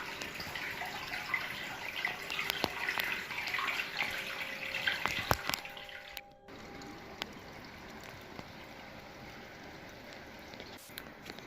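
Water trickles and splashes continuously through an old original filtering system in a spring house built in 1840, a soft broadband flow with faint drips, heavier at first and then settling into a quieter steady stream.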